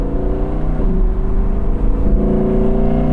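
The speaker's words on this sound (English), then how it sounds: "If you get it under load, it makes this wonderful guttural sound." A deep, guttural Audi R8 Spyder V10 engine drones steadily under load, with harmonics shifting slightly as it pulls, loud and close.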